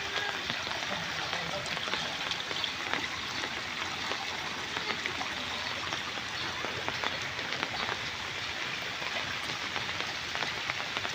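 Heavy rain pours down steadily over a flooded village with houses, a dense, continuous hiss of drops on surfaces throughout, close and loud with no letup.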